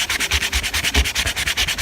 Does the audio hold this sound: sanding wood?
yes